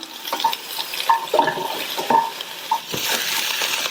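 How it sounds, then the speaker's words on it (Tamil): Sliced onions and green chillies sauté in a pan for a quick kulambu curry, with a soft steady sizzle and a spoon scraping and clinking against the pan, close up, with no talking. "இப்ப ரெண்டுமே நல்லா வதங்கணும். வெங்காயம் நல்ல கலர் மாதிரி வதங்கணும்."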